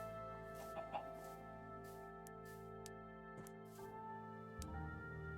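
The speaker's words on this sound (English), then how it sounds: "There's the chicken." A few soft chicken clucks from the game Minecraft sound faintly over steady, sustained background music, with no one speaking.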